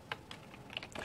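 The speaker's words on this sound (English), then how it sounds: "So I can type in whatever my title is." A computer keyboard being typed on, a quick run of light, soft key clicks over about a second, close but faint.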